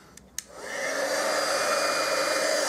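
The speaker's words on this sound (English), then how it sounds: "we can grab the heat tool and we'll just heat it up a little bit just to dry it off a bit." A heat tool blows steadily to dry damp shaving cream on an acetate card, a loud continuous whooshing hum starting after two brief clicks and holding alone to the end.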